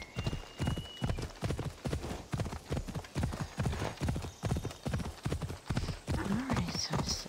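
Horse hooves clip-clop in a steady, close rhythm through a game world in Assassin's Creed Odyssey, with a brief whinny near the end.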